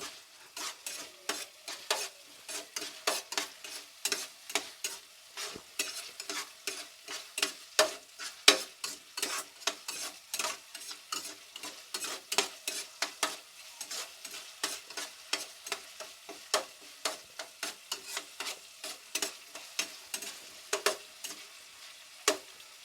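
Tomatoes frying in a pan for sprouts pulao, a soft hiss under repeated sharp scraping strokes of a spoon stirring in a steady rhythm, close and moderately loud.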